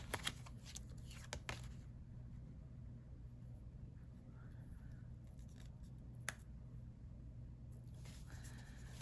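Tarot cards being shuffled by hand in several short rustling bursts, faint and fairly close, over a steady low background hum.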